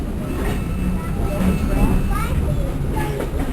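Train rolling along the tracks at Steamtown as the engineer builds speed, a steady rumbling clatter with some faint squeal, with a voice speaking over it.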